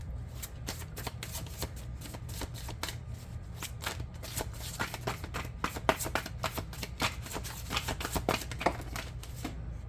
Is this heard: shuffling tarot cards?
yes